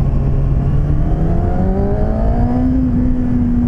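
A Kawasaki Ninja ZX-6R 636 sport motorcycle engine revs steadily upward in pitch while riding, loud and close, a continuous droning whine with no speech over it.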